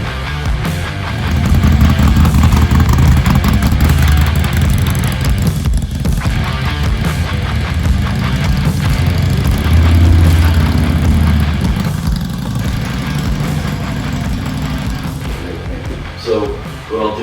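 A Harley 98 inch Twin Cam motorcycle engine runs steadily at a low, throbbing idle, loud and close, holding an even rumble throughout with slight swells near the end.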